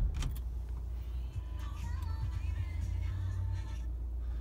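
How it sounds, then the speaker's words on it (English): An Audi A4 Avant estate's engine turns over and settles into a steady low idle, heard from inside the cabin with a few faint clicks and rustles over the continuous hum. "We start the car."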